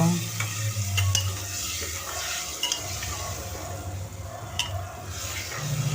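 Soaked matar dal is stirred into hot oil with spices, frying with a constant sizzle under repeated scraping and stirring strokes of a spoon against the pan, with a few light clinks.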